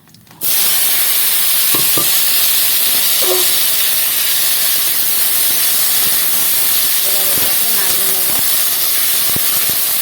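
Cut elephant foot yam stems frying in oil with dried red chillies, radhuni and cumin, a loud continuous hiss and sizzle starting abruptly, with faint scattered clinks and brief voice-like tones beneath.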